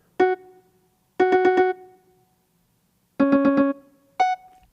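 Short, clipped synth notes from a Roland MC-303 fire in tight bursts of one to four stabs, with a brighter higher note closing the pattern, clean and close with no talking.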